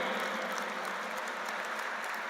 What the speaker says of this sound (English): Indeed, a big round of applause for a beautiful video.